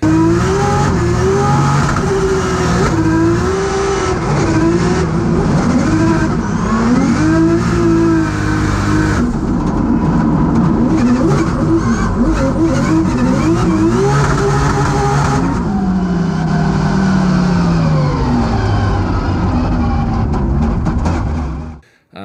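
A race car engine revs hard through a drift run, loud and close, rising and falling in pitch as it accelerates and lifts, with brief tyre squeal, continuing for the whole run before cutting off abruptly at the end.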